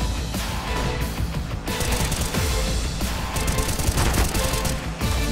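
Rapid gunfire from the CS:GO video game during a competitive match, with dense overlapping bursts of shots and crashing impacts running continuously and loudly throughout.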